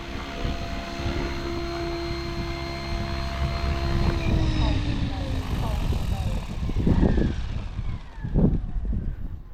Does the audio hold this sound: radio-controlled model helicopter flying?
yes